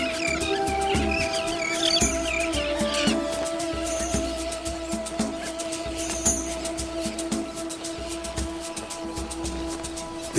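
White-cheeked terns call over a desert sea coast, with scattered high chirps and calls rising above a steady background hum, moderately faint and without any talking.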